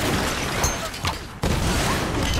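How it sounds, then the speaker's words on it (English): Explosions in the Tomb Raider video game, a loud, dense barrage of booming blasts and crashing debris with a sharp new hit partway through. "Explosions!"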